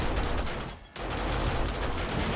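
SMG turrets in 7 Days to Die fire at oncoming zombies in a dense, continuous rattle, loud and unbroken apart from a brief dip, with no talking.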